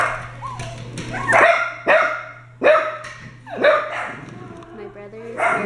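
An excited dog barks loudly in repeated bursts, with voices talking over and between the barks as visitors arrive at a home.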